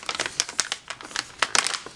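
Crinkly plastic packaging for blender brushes rustles and crackles in quick, irregular bursts close up, with no talking.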